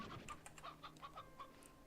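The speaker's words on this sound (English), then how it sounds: "we have some more hens because some of the chickadees grew up" Hens clucking in the Slime Rancher 2 video game, a series of short, repeated clucks in a steady patter over a soft ambient background, moderately close with no talk.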